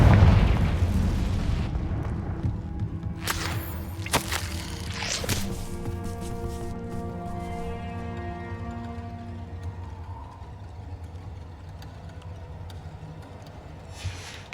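A Confringo fire spell explodes in Hogwarts Legacy with a loud, rumbling blast and a few sharp crackling bursts. It decays into a lingering low roll under soft background tones.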